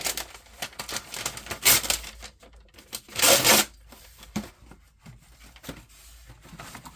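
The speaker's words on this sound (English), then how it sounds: "Let's get out some more of this freezer paper. This is going to be noisy." Freezer paper being pulled off the roll: a run of crisp, crackling rips and rustles close by, with two louder tearing bursts and scattered papery crinkles between them.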